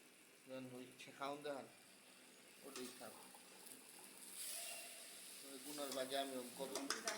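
A tempering of chopped onion, tomato, green chilli, spring onion and coriander sizzles in a pan for noodles, a soft frying hiss that swells briefly in the middle. Someone talks over much of it.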